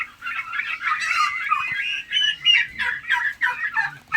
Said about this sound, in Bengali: এই হচ্ছে আমাদের শখের টার্কি